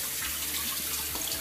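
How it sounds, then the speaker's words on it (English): Tap water runs steadily into a kitchen sink while raw chicken breast is rinsed under it, a continuous close splashing hiss with small shifts as the meat is moved. "one thing that my mom taught me is always wash the meat"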